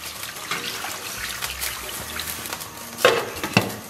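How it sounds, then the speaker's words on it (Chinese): More water splashes into a small pot of braising beef bones and spices, a steady close trickle with a couple of louder splashy knocks near the end. "再给它添点水，"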